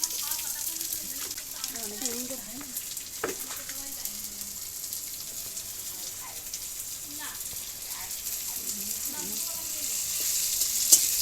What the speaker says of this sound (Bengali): কেটে এবার পেঁয়াজ কড়াতে দিচ্ছে